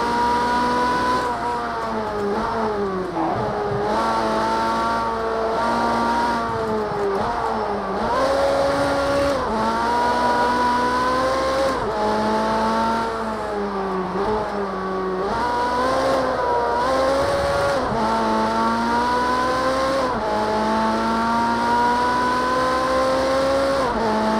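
Ferrari race car in Project CARS 2 racing game, engine loud and continuous, pitch rising and falling through repeated upshifts and downshifts, with tire squeal mixed in throughout.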